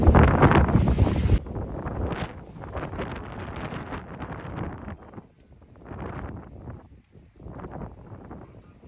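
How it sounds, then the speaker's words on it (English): Strong wind buffets the microphone at an allotment, a loud rushing roar for the first second or so, then gentler gusty rustling continues in uneven surges. "Hopefully the wind doesn't blow me away first."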